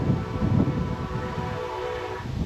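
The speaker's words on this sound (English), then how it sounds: "if you can hear that train in the distance" A train rumbles in the distance near the Red Bluff escarpment in Mississippi, with a faint, sustained horn-like tone under gusting wind noise.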